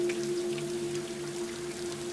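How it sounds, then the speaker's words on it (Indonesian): Heavy afternoon rain pours down steadily, a dense continuous hiss of falling water with a faint low hum underneath and no voices. "Tiba-tiba hujan turun sangat lebat sore itu"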